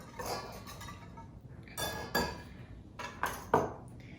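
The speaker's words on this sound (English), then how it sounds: "give this marinade one little last stir" A utensil stirs pork in a marinade in a bowl for slow-cooker cochinita pibil, giving a few soft scrapes and wet sloshes with sharp clinks against the bowl toward the end, close and fairly quiet.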